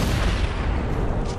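An explosion in The Saboteur video game during a zeppelin crash: a dense, loud, rumbling blast with crackling noise, sustained for the whole moment, with no voice over it.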